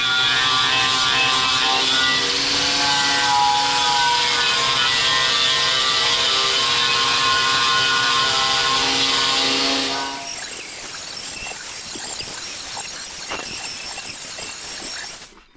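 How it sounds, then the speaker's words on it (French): Loud, steady angle grinder whine on welded steel dogleg repair panels of a VW split bus, a continuous high screech for about ten seconds, then dropping to rougher scraping and clattering before cutting off. "je vais passer un petit coup de meuleuse"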